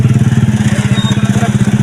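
A motorcycle engine runs nearby with a loud, steady low throb that pulses rapidly and evenly throughout.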